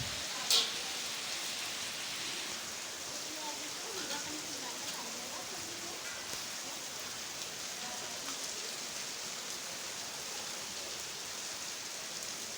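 A steady downpour of heavy rain hisses continuously, with a sharp, brief click near the start.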